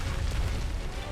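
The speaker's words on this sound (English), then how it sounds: "Still got hit by the explosion." An explosion set off by the monster Uragaan in Monster Hunter World: Iceborne erupts as a dense, rumbling blast, with loud low booms rolling continuously and no voices heard.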